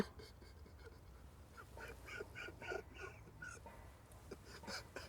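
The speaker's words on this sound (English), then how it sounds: "Oh, this duck." A duck quacks a few times at a distance during a carp fishing session outdoors, the calls faint and intermittent over steady background noise.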